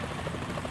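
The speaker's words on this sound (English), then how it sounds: "Is that a chopper I just heard?" A helicopter in the video game Metal Gear Solid 2 gives a brief, steady, dense rotor rumble, loud and continuous, with no speech over it.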